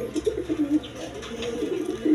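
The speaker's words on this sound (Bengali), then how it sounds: "খুব সুন্দর কবুতর দেখি।" Pigeons coo close by in a loft, with soft repeated throaty calls overlapping in a low murmur that continues throughout.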